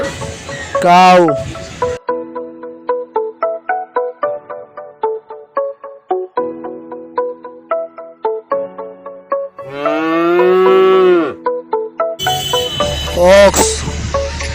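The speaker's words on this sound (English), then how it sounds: "Cow." A cow lows in a long moo near the start and again later, both loud and close, over a plinking children's music track with steady plucked notes.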